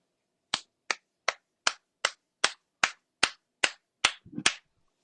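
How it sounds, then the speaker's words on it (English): One person claps eleven sharp, evenly spaced times over about four seconds, loud and close with nothing else around, the last few coming a little quicker. "I'm clapping for myself"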